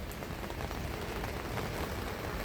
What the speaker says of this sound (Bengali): বৃষ্টি বৃষ্টি আর বৃষ্টি।